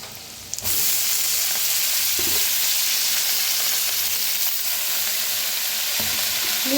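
Fenugreek leaves sizzle and fry in a hot pan after the mix has been roasted, a steady, loud broadband crackle that starts abruptly and carries on with faint stirring knocks.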